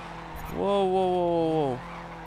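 A racing car drifting in the video game GRID gives a sustained tonal tire squeal that rises in, holds for about a second, then drops away, heard clearly over a low engine bed with no talk.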